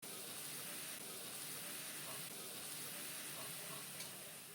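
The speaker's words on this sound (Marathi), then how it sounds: "आता त्या तुपामध्ये हा कीस टाकायचा" Grated bottle gourd fries in hot ghee in a pan on the stove, giving a faint, even sizzle and steady hiss that holds without a break.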